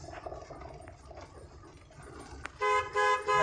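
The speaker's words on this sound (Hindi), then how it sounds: "हॉर्न दीजिए" A car horn honks in several short bursts near the end, after a stretch of low engine rumble and road noise.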